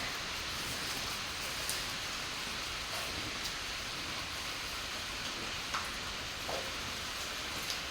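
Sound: rain falling all day

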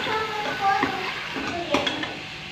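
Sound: chicken and peas being fried in a pan

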